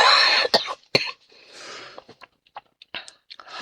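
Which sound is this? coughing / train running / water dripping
coughing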